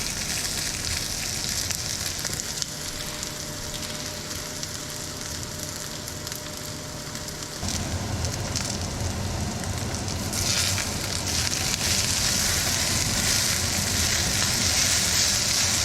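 Potatoes for a Spanish omelette sizzle steadily in a pan, a dense close frying hiss that grows louder partway through as they are stirred around.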